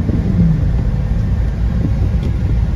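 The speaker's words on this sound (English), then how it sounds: "But listen to that V8. Sounds nice with the exhaust." A 2005 Hummer H2's V8 engine runs through its exhaust, giving a loud, steady, close rumble that stays even throughout with no voices.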